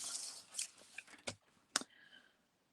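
Paper or card is cut into a square for a simple box, heard as a few faint, close scissor snips and short crisp cutting sounds in quiet surroundings.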